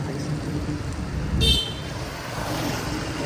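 Motorbike passing in busy street traffic in Chiang Mai, Thailand, a brief close engine surge and rush swelling midway, with a short horn toot over the constant roadway hum.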